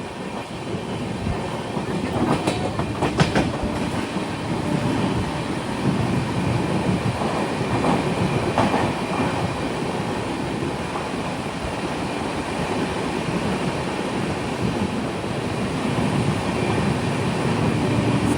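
A Duranto Express train rushes steadily through Kasaragod railway station without stopping, a loud continuous rumble and rattle with brief clicking of wheels over the rails, no voices.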